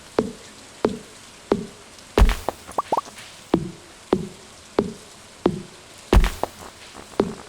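Steady, rhythmic chopping thunks of tree stumps being chopped in the video game Stardew Valley repeat about every second, each a hollow knock with a short tail, with a few small clatters in between.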